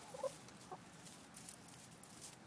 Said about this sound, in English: Here are the chickens. Hi, chickens.